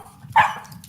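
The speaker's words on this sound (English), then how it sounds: "Listen to the little dog." A single short yip from a little dog, played as part of a preschool animal-sound warm-up, rises sharply out of low background noise and fades quickly; close and fairly soft.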